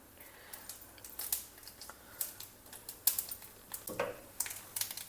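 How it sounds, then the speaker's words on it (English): Mustard seeds spluttering in a teaspoon of hot oil for a South Indian tempering, heard as rapid irregular crackles and pops that burst sharply and fade, moderately close with no talking. "Heat a teaspoon of oil, splutter some mustard seeds in it"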